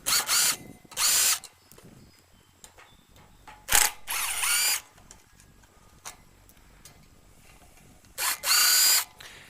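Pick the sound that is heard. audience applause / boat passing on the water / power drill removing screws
power drill removing screws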